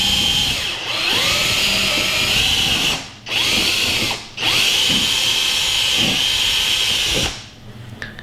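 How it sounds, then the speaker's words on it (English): A loud electric drill whines steadily while drilling a hole for a car tower strut bar, stopping briefly twice and then winding down near the end, each pause followed by a fresh spin-up. "Drill a little bit, let it cool."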